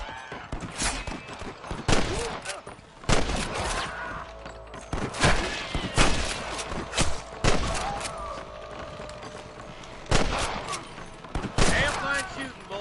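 Repeated loud gunshots crack through a Western shootout in the video game Red Dead Redemption, sharp irregular blasts spread across the whole stretch amid shouting voices and game noise.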